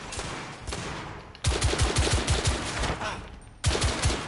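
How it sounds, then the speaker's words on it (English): Blind-fired gunshots from The Order: 1886, a steady wash of battle noise that erupts into rapid, loud bursts of automatic fire with heavy low thumps, then a brief lull and another close burst near the end. "Blind firing."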